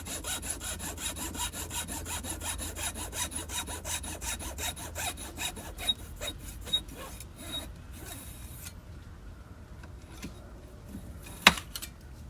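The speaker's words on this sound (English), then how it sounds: "I'm just going to put my saw in my miter box, and I'm going to saw away" Hand saw cutting wood in a miter box, with rapid rhythmic back-and-forth strokes close and steady for most of the clip before slowing into a few scrapes and a sharp knock near the end.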